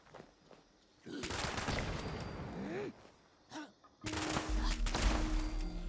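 Turrets in the video game Fallout 76 fire in rapid bursts of gunfire, loud and close. The bursts are separated by short pauses and occasional footsteps, and a voice can be heard faintly under the action.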